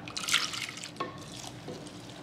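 Water poured into a blender or pot to rinse out ground corn and milk while making corn soup, a soft liquid splash and trickle, with quieter drips trailing after.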